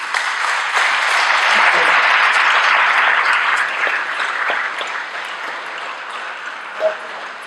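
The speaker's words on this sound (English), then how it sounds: "Can we give them a round of applause?" Audience applauding as panelists take their seats at a community forum on race and the prison system in Fresno, a steady dense wash of clapping that slowly thins toward the end.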